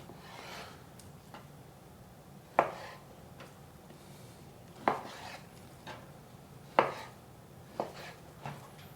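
A knife chops a whole chicken into 1-inch pieces for grilling kebabs, sounding as a series of sharp board thuds spaced about a second or two apart. Softer scraping and handling sounds fall between the strikes.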